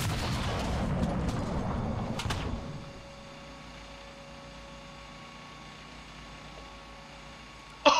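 A loud burst of firing from an M60A2 tank in War Thunder opens the clip, a heavy boom with rumble that cuts off around three seconds, leaving a quiet engine idle hum and a sharp click at the end.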